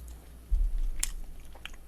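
Someone bites into and chews a lettering cake at close range, with a soft bite at the start followed by moist, quiet chewing and a few small crunchy clicks over about two seconds.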